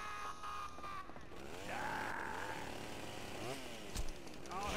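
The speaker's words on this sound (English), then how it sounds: "There's a chainsaw guy." A chainsaw revving in the Stubbs the Zombie video game, a buzzing engine that rises and falls in pitch over several seconds amid game noise, with a sharp hit near the end.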